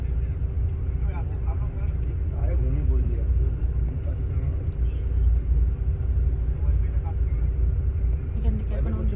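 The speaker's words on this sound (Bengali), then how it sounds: "ডালখোলা থেকে বাস ছেড়ে দিচ্ছে।" A bus pulling out of Dalkhola gives a continuous, heavy low engine rumble that stays steady and loud throughout, with muffled voices underneath.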